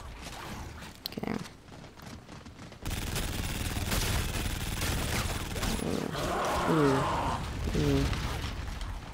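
Gunfire from a normal gun against a boss in Infinite Warfare Zombies, rapid continuous shooting over game effects and music, with a brief lull before the barrage resumes.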